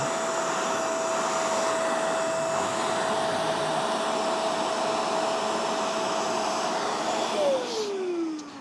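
A MOOSOO cordless wet/dry shop vacuum powered by Makita batteries runs on its high setting, a loud steady whirring roar with a constant motor whine that holds throughout, then winds down in pitch at the very end.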